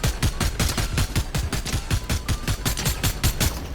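Rapid bursts of gunfire in Fortnite crack out in a quick, evenly spaced series of sharp, loud shots, close and continuous with no talking.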